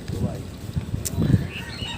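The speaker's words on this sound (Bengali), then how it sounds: "আর আশেপাশে মুরগির বাচ্চা নিয়ে চড়তেছে, খাবার খুঁজতেছে" Hens with chicks foraging around a rural farmyard, giving short, soft clucks and calls in brief bursts against a low outdoor background.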